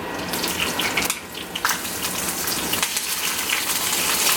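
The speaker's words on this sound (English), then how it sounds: "I'm going to add my shrimp to the pan." Shrimp hit a pan of hot olive oil for a portobello mushroom risotto, giving a loud, continuous close sizzle and spatter that swells and eases over a few seconds.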